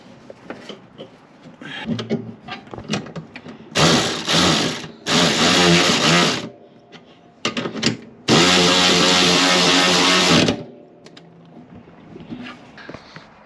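Enegitech 12V electric cordless ratchet wrench driving bolts in three loud whirring bursts of motor and gear noise, the last about two seconds long, with quiet clicking and handling between them.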